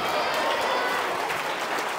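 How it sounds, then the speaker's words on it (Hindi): Students in a school gathering clap together, a brief, fairly soft burst of crowd applause with a faint murmur of voices underneath. "आवाज कम आ रही है तालियों की।"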